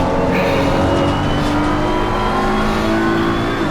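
A race car accelerates hard out of a corner on track, its engine note loud, close and steady as the power goes down, with a faint rising whine over the roar.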